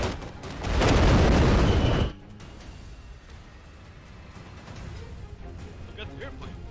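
An artillery gun fires in the Iron Conflict video game, a loud close boom with a roaring blast that lasts over a second and then cuts off, leaving low rumbling and faint background noise.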